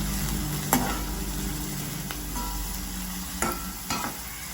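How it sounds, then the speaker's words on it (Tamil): Chopped onions sautéing in a pan for vegetable patties give a continuous close sizzle, with a few sharp utensil taps and scrapes as they are stirred. "வெங்காயம் வதங்கட்டும்."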